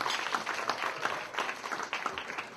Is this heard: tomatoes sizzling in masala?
no